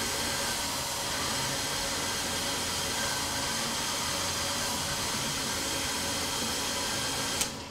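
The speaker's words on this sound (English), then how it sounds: "I wish the hairdryer would just stay in place." A hair dryer blows steadily during an LN2 overclocking session on a GTX 1070 and 6950X rig, a constant loud broadband whoosh with no breaks, ending in a brief sharp click.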